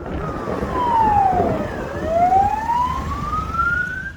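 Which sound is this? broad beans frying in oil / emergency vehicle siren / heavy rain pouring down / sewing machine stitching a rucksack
emergency vehicle siren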